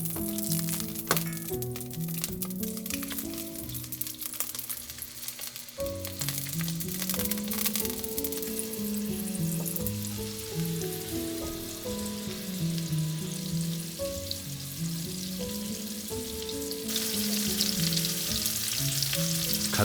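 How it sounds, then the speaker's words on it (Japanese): Hamburger patties frying in oil in a home kitchen, a continuous crackling sizzle heard beneath a melodic musical backing. "油を敷いて早速ハンバーグを焼いていく。"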